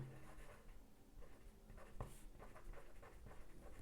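A pen scratches across paper in short strokes, steady and close, with soft room noise behind and no voices, as notes are written down for a tenth-grade geography lesson.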